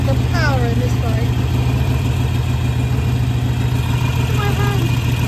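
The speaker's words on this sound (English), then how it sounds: "Let's start her up. The power in this bike." A Harley-Davidson Sportster 883 motorcycle engine idles loud and close with a steady low, throbbing rumble that holds throughout, with brief speech at the start.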